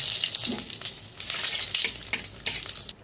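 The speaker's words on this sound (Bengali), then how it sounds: "এই একই তেলে আমি ফোড়ন দিয়ে দিব শুকনো লঙ্কা, গোটা জিরা আর তেজপাতা।" Dried red chillies, whole cumin and a bay leaf fry in hot oil left from frying papad. The close, crackling sizzle stays loud throughout, with bursts of popping and brief stirring scrapes and no voice.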